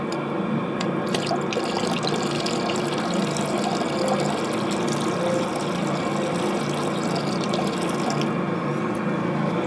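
Hydrated lime solution trickles slowly into copper sulfate for a homemade Bordeaux mixture, a steady continuous pouring and splashing of liquid heard close and alone throughout.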